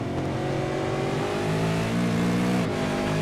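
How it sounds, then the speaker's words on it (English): An engine snarls at sustained high revs from the cockpit of a juiced Frog Leap racing car on the Le Mans circuit in a V8 sim race, a steady loud drone with a brief pitch dip near the end. "Let's jump on board with him as he attacks the juiced Frog Leap racing car."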